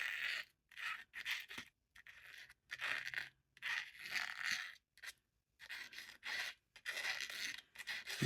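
A tool scratches across watercolor paper in short, rough strokes, about a dozen dry rasping bursts separated by brief silences, close and fairly quiet.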